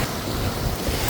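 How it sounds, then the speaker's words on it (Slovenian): Sea waves wash against the coast in a broad, continuous roar, with strong wind buffeting the microphone and no other sounds standing out. "vam moram kazati to pač morje"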